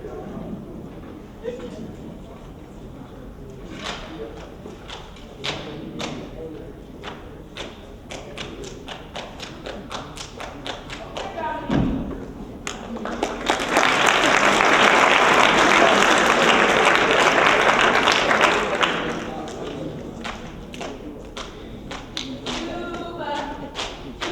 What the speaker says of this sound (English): It consists of clapping hands in a complex and rhythmic fashion.